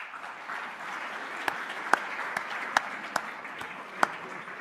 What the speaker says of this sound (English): please stand as you're able and accept our applause for your dedication and commitment to Washburn